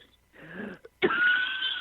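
A man gives a short throat-clearing cough, then a harsher, louder cough, both close to the microphone and alone.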